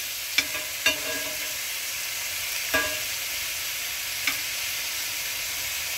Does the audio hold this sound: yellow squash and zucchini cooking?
yes